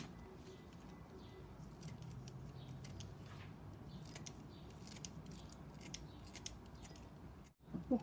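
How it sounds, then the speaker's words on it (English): Scissors snip chili pepper into a small bowl while preparing Mongolian hot pot, a steady run of quick close cuts over a busy kitchen background. "We're going to cut some chili pepper in it."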